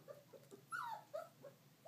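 Goldendoodle puppy whimpering indoors, several short high whines and yips in a loose irregular series, faint to moderate and close by, with no talk over them.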